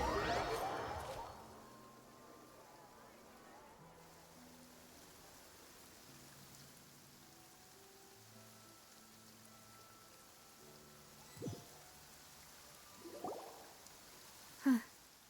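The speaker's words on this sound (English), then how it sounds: "It's been raining non-stop for a few days now." Steady soft rain falls in Genshin Impact, a faint continuous patter under quiet ambient game music, with a few sharper taps near the end.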